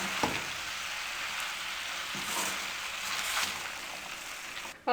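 Ingredients for Chinese fried rice sizzle and crackle steadily in a pan over a low flame, a continuous close hiss with a few soft stirring scrapes and no talking.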